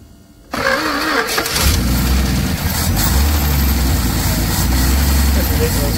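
A 1968 Dodge Coronet V8 with a holed muffler cranks and catches after a short quiet moment, then runs rough and loud with a raspy, uneven exhaust rumble. Voices speak faintly beneath the engine.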